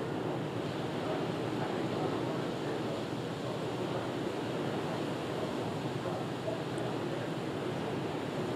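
A sudden rainstorm outside, heard as a dense, steady wash of rain and wind noise that roars on without a break.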